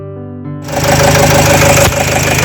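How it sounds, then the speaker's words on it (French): Renault Trafic van diesel engine with a faulty injector cranks briefly, catches quickly and runs rough and loud, with an uneven, lumpy idle close by. "on écoute démarrage du moteur au quart de tour, mais il tourne pas rond du tout là."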